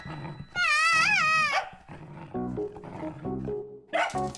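A cartoon dog makes a loud, drawn-out wavering whine and growl, then gives several choppier lower growling barks. Bright synthetic tones run through the sound.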